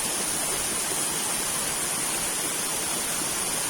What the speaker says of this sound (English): it's a nice waterfall